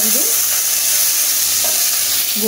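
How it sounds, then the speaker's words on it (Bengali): Whole cumin seeds sizzle steadily in hot oil for tempering, a loud, close, continuous frying hiss with faint stirring clinks. "জিরে ফোড়ন দিয়েছি"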